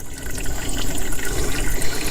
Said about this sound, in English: Oh, look at that, it just pours out like gas.